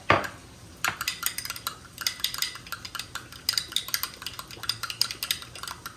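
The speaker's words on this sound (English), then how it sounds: "we're just gonna mix these together" Chipotle and Tabasco hot sauces being mixed into a dipping sauce, a quick series of rhythmic clinks and taps of a utensil against a small bowl, close and crisp, with no talking.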